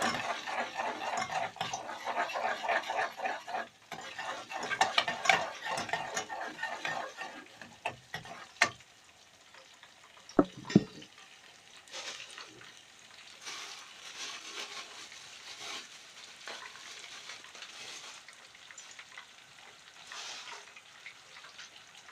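Onions frying in oil while meat is browned for an Egyptian-style lunch, with a steady sizzle and frequent stirring clatter that quiets partway through, leaving a softer hiss with a few sharp knocks.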